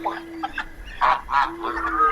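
Several loud, nasal goose honks in a botanical garden in Santo Domingo come in short irregular bursts, close by, with brief gaps between calls.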